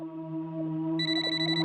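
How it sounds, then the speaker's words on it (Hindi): A phone rings in a Hindi horror story scene, a steady electronic tone that gains a brighter, higher layer partway through, alone without talk. "भाई का फोन है।"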